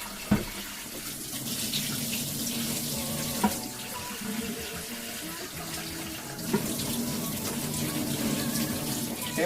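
Tap water runs steadily to wash developed film after monobath processing, a close, continuous splashing flow with a few soft clunks.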